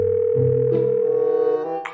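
A telephone dial tone sounds loud and steady as a continuous close hum, shifting slightly in pitch partway through before a brief click near the end.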